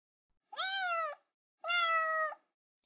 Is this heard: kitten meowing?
yes